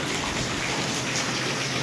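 Steady rain patters continuously on surfaces, a dense even hiss with no voices.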